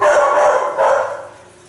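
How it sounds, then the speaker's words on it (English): Dogs barking indoors, two loud, close barks in quick succession with the second trailing off. "I apologize again for my dogs"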